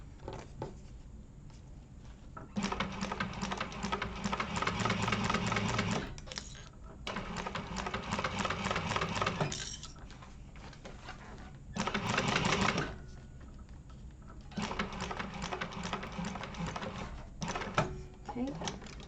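A sewing machine bastes the bottom of a vinyl zipper pouch in fast mechanical bursts of stitching, several runs separated by short pauses, heard close with a voice talking over parts.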